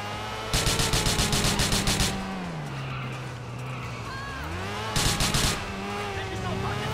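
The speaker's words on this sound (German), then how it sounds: "Wie, jetzt kommt ein Auto." A car draws near in GTA IV, with a revving engine and tyre squeal in two loud bursts at the start and midway, over a steady game soundtrack while someone talks.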